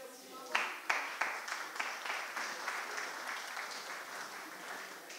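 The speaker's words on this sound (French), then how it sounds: "On peut l'applaudir parce que ce n'est pas un exercice facile d'arriver à synthétiser" Audience at a conference on supporting local authorities breaks into applause, a steady wash of many hands clapping at moderate distance, with a few sharper claps at the start.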